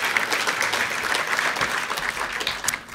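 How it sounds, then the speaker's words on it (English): An audience at a freethought talk gives a warm round of applause, dense continuous clapping from a large crowd that stays steady and full before thinning slightly at the end. "a round of applause for Jessica"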